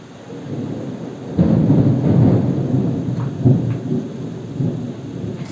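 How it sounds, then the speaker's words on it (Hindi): A loud thunder clap rumbles during a rainstorm, breaking in suddenly and rolling on heavily with steady rain hiss underneath. "बहुत जोर से बिजली कड़केगा अभी।"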